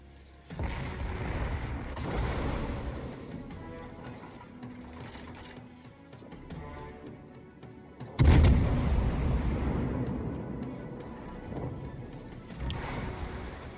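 Heavy booming naval artillery fire in the game World of Warships, with a sharp loud blast partway through and rumbling, mechanical clatter continuing before and after.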